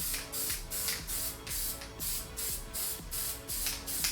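A spray can puts a light coat of finish onto the ground, a series of about eight short hissing bursts in a steady rhythm, close and fairly quiet, with no voices.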